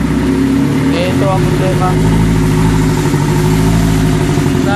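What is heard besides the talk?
Toyota Corolla engine running rough and nearly stalling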